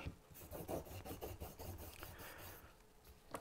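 A plane blade is rubbed back and forth on an abrasive in a steady run of rasping strokes, about two per second, close up and quiet with no talk.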